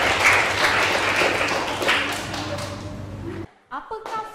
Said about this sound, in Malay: berikan tepukan untuk Rahiza